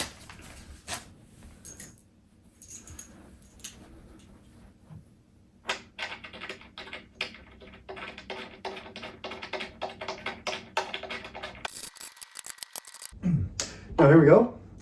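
Screws being snugged down by hand into a Hoerboard Stereo T DJ booth, a run of quiet irregular taps and small clicks that builds into a denser clatter, ending in a brief louder knock.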